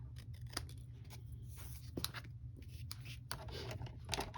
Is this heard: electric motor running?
no